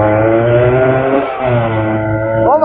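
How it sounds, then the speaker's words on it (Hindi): A 1992 Yamaha RX100 two-stroke motorcycle revs up close and loud. Its engine tone holds steady and droning before a short dip, then climbs again with a sharp blip near the end. "ओ भाई सुपर बाइक की तरह आवाज आ रही है यार।"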